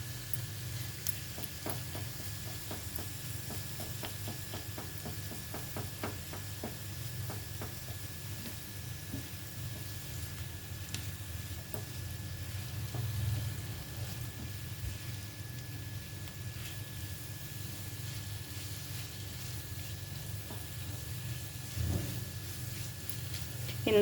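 Ginger garlic paste sizzles in a hot oil tempering for fried vegetable semiya, a steady low frying hiss running throughout with a few faint clinks of stirring, no talking over it.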